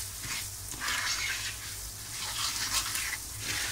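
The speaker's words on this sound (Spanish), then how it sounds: "Mirad, ya va sofriendo el pimentón" Paprika frying in hot oil in a pan while rice al horno is being prepared gives a steady, close sizzle with soft crackling that swells and eases from moment to moment. No one speaks.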